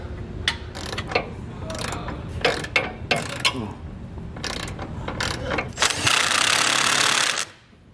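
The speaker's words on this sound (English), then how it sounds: "So you may need to swap over to a wrench and get those tightened down." A wrench tightens the bolts of a Curt custom underbed OEM-style gooseneck trailer hitch on a 2022 GMC truck, with close, loud bursts of rapid ratcheting clicks, then a harsher, sustained grinding burst near the end.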